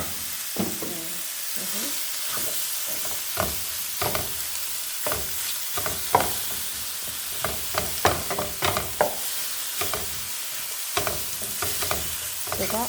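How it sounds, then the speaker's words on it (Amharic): Pieces of meat fry and get stirred in a pan for an Ethiopian tibs stew, with dense sizzling and repeated clattering scrapes of a utensil close by. "ስጋ እንደዚህ እጠብሳለሁ ማለት ነው።"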